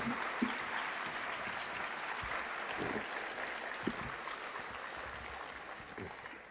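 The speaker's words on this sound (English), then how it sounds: "Can we have one more round of applause for our visual and performing artists?" Steady applause from a crowd at a high school awards program, a continuous wash of clapping that holds at a moderate level, with a few sharper claps standing out.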